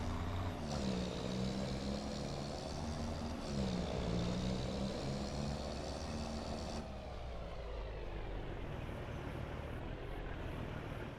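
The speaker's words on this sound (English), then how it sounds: "Might have to get this truck out of the way here a minute." Heavy truck in the farming game Farming Simulator 25, a steady low diesel drone with shifting engine pitch and a brief air-brake-like hiss, continuous and fairly close throughout with no talk.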